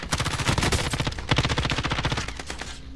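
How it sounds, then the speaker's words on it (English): Rapid video-game gunfire with a sniper firing on players, a dense run of loud, close shots and bursts that keeps going nearly the whole time before easing off at the end. "We're getting sniped by someone good."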